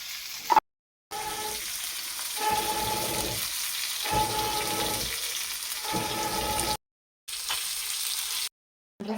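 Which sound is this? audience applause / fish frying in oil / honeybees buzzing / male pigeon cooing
fish frying in oil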